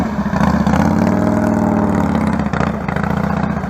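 Harley-Davidson Heritage motorcycle with an aftermarket fairing and Road King bags, engine running close and loud with a rhythmic, throbbing low rumble that swells briefly then eases, no speech.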